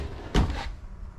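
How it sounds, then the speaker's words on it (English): A pull-out drawer in a 2023 Forest River Sandpiper destination travel trailer slides and shuts once with a short wooden thunk, close and fairly loud against a quiet room. "These will have the pull-out drawers."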